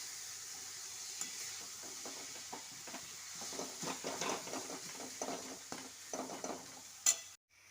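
A spoon scrapes and stirs a thick pitha batter in a hot wok over a faint sizzle, with irregular close scraping strokes that end in a sudden clatter.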